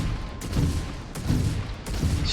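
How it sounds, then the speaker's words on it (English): Forward phasers fire from a Star Trek Enterprise NCC-1701 ship build in the game Starfield: three loud, sharp energy blasts at steady intervals, each with a bright crack and a rumbling tail, heard alone without talk. "We've got our forward phasers that we can fire."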